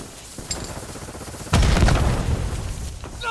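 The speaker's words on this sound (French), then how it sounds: "Grenade ennemie!" An enemy grenade bursts in a Call of Duty Warzone match with a sudden loud boom midway, surrounded by rapid gunfire crackle and scattered shots, close and intense.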